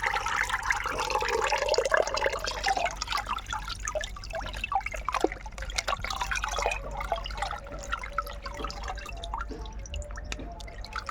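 Water drains out through the small holes in a flower pot, heard as close dripping and trickling that is busy at first and then thins into scattered drops. No one speaks.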